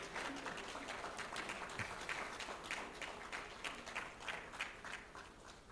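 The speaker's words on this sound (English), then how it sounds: "Another round of applause would be entirely appropriate." Quiet, fairly distant applause fills the hall at the 2022 Murtala Muhammed Foundation Annual Lecture, a steady patter of many hands clapping that continues at an even level with no speech.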